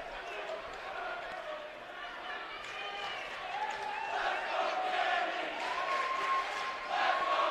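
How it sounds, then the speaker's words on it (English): Crowd at a college wrestling match, Loras College against Wartburg College, cheers and shouts in a steady rising roar across the gym, heard under a commentator's talk. "Crowd's into it."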